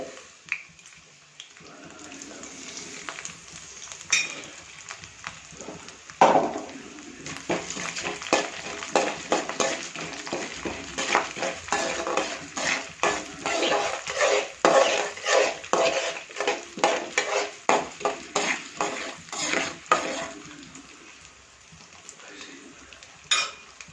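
Chana dal, mustard seeds and urad dal fry in hot oil for an onion-tomato chutney, with a steady sizzle, crackling pops and frequent metal stirring clinks against the pan, close up with no talking.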